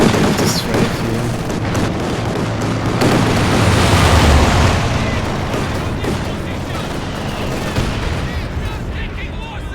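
A strafing air strike in the World War II strategy game Company of Heroes 2 rips across the battlefield, with rapid bursts of gunfire and booming explosions in a loud, continuous barrage under a commentator's voice.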